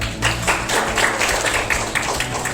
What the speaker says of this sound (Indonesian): Oke, tepuk tangan untuk Jidan.